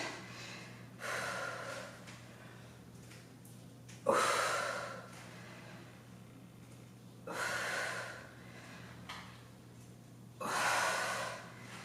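A person doing a dumbbell leg workout breathes heavily, with four loud, close exhalations and gasps spaced a few seconds apart over a faint steady hum.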